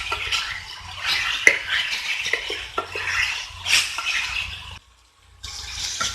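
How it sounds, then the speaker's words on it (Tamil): Chicken sautés in a pan while a utensil stirs and scrapes it, giving a continuous close sizzle with clattering metal-on-pan taps, a brief quiet gap near the end, then stirring resumes. "ஒரு 2-3 மினிட்ஸ் இதை அப்படியே வதக்கிக்கோங்க சிக்கனோடு சேர்த்து"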